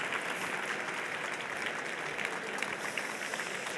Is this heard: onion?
no